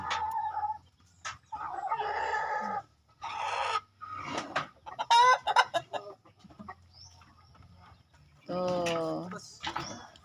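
Chickens clucking in short bursts, including a hen, with a rooster crowing loudly near the end; quiet gaps between calls.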